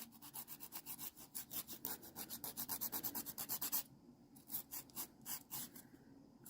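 A nail file rubs rhythmically along the sides of a fingernail, with soft, close, evenly spaced rasping strokes that briefly pause then resume, faint and without talk.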